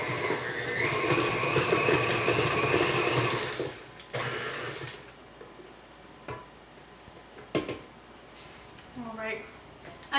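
Electric mixer stirring chocolate chip cookie dough with baking soda just added, a loud steady whir for several seconds that cuts off, followed by quieter kitchen clatter and brief talking.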